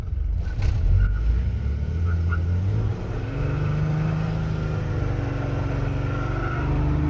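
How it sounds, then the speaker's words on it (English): A car doing a burnout, its engine holding a steady loud roar and rumble while the wheels spin, with a couple of brief sharp bursts near the start and no pause in the noise. "But we just did that burnout"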